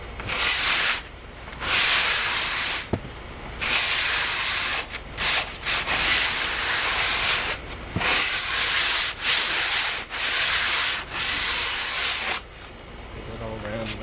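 A homemade wooden skimboard blank is sanded along its edges with sanding screen, giving repeated bursts of rasping strokes separated by short pauses.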